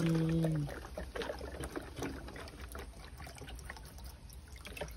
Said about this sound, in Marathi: कूलरमध्ये पण पाणी टाकायचे